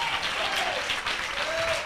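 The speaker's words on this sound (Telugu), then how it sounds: "గట్టిగా చప్పట్లు కొట్టి స్తోత్రం చెప్పండి" A church congregation claps steadily during a Telugu sermon, a dense, continuous wash of applause that stays even and moderately loud for the whole short stretch.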